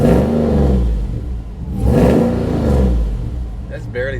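A 707 hp Jeep Wrangler Hellcat with a Flowmaster exhaust revs up close in two strong, rising and falling pulls of deep engine roar, with a brief voice near the end.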